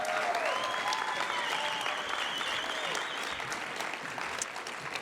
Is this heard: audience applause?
yes